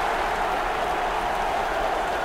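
A home stadium crowd at a football game roars and cheers after a sack, a dense, steady wash of crowd noise with no single voice standing out.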